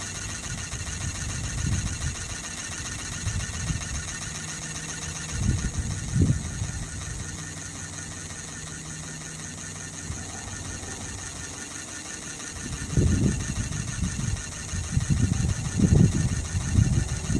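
A Sirius steam engine generator runs under full load with the boiler holding about 40 psi, giving a steady mechanical drone with rhythmic knocking that swells louder near the start and again toward the end, with no talk.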